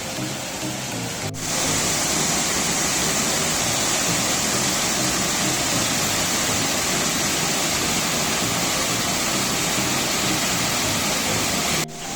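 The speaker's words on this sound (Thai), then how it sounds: "นี้เจอน้ำตกอีกตัวหนึ่งแล้วนะครับ" A waterfall in the Khao Yai forest roars as a steady, loud, full rush of falling water that fills the whole stretch without pause, with no voices over it.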